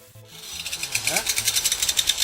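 A grinder scrubs paint off the edge of a metal pipe, producing a rhythmic rasping that builds in pulses, each stroke bright and gritty, close and moderately loud.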